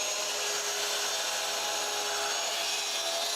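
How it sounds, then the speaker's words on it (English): A power tool cuts a groove in PVC trim, a continuous loud, hissing, grinding whir that stays even from start to finish with no speech over it. "We'll first cut the groove."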